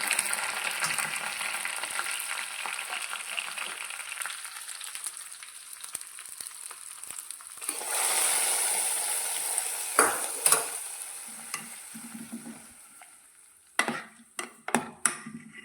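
Onions and curry leaves sizzle in a frying pan while a spatula stirs them, scraping and knocking against the metal in irregular bursts, with several sharp clanks near the end; close and steady, no voices.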